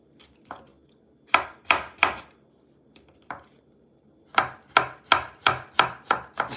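A knife chops through a green mango on a cutting board for a shrimp salad, giving sharp, crisp thwacks in two loose bursts. A quick run of steady, rhythmic cuts closes the sequence, close and clear with no talking.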